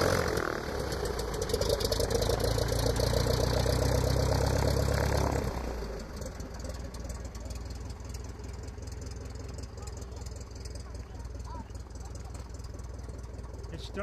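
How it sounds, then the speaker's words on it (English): A seaplane engine starts up at a fly-in, a loud running roar for several seconds that then drops into a steadier, quieter idle, with people talking nearby. "once you start the engine on a seaplane, you move forward"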